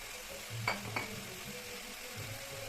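Chicken, potatoes and mustard greens being stirred in a pan, with a couple of soft scraping strokes over a faint, steady sizzle, quiet and close.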